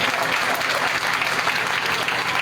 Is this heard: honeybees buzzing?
no